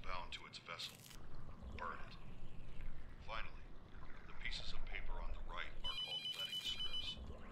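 A telephone rings in the horror video game The Mortuary Assistant, its tonal bell bursts surfacing near the end over a constant low game ambience while someone speaks throughout.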